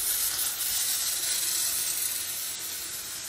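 Spray adhesive hissing steadily from a can onto headliner fabric for a car headliner job, a continuous close, moderately loud broadband spray with no pauses and no talking.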